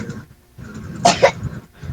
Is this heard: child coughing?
yes